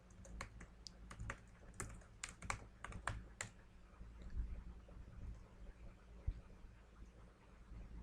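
Login details are tapped out on a computer keyboard in a quiet room, a quick run of crisp, close keystrokes that thins into a few scattered clicks.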